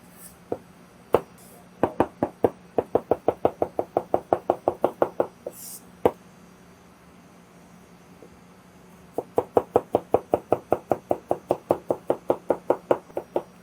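Knife chops celery, carrots and onions on a cutting board in two quick rhythmic runs of sharp close knocks, separated by a short pause with a few isolated taps.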